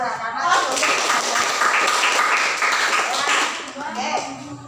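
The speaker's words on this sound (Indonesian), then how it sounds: "Ya, kelompok 3 kita beri aplaus." A school class gives a round of applause for the winning group 3, with steady clapping from many hands in a room that lasts several seconds, and voices are heard alongside.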